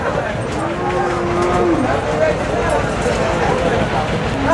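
Local bulls at a cattle market, a close, drawn-out low moo rising through the steady din of the crowd, with people talking nearby throughout.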